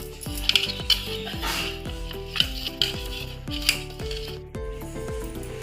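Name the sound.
stirring jaggery mixture in a pot until it dissolves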